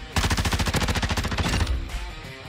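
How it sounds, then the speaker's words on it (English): Tempus Razorback assault rifle in Modern Warfare II fires a rapid, steady burst of loud, close shots for well over a second, then stops while lighter clatter and ambient game sound trail on. "The new Tempus Razorback assault rifle is now in Modern Warfare 2."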